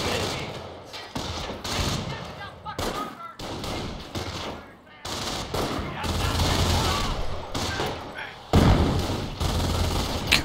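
Mortar blasts and gunfire in a real-time strategy video game crack and thump in dense, irregular bursts, with a heavy impact near the end and a voice talking over the action.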